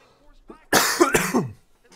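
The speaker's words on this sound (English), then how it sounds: "the cough just has not gone away." A lingering cough from someone getting over the flu, heard in a close, loud burst of two or three harsh coughs over about a second, with faint voice sounds before it.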